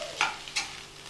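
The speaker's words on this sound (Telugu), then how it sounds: "క్యాప్సికం కూడా వేసుకొని ఒకసారి బాగా కలిపిన తర్వాత" Capsicum stir-fried with vegetable noodles in a pan, two quick scraping stirs over a soft, continuous sizzle, close and fairly quiet, with no voices.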